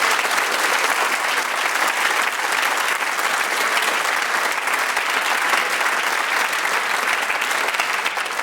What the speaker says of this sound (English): from our Radio Theatre audience, you earn this elemental, monumental round of applause.